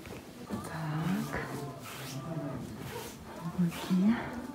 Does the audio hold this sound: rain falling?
no